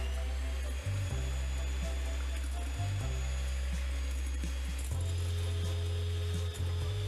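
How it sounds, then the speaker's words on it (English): An egg is whisked for the batter of coated peanuts with a steady, close motorized whir that dips briefly in pitch a few times. No one speaks. "Whisk the egg very well."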